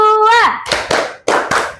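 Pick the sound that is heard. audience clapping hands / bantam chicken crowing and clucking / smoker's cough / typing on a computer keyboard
audience clapping hands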